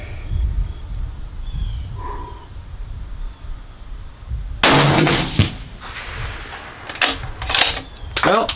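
A hunting rifle fires during an ammo test, a sharp loud crack cutting across steady outdoor cricket chirps, followed by a few further sharp impacts or echoes as the insects keep trilling.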